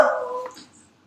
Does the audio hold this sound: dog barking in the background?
yes